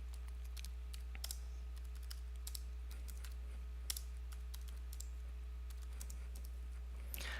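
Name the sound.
typing a data set on a computer keyboard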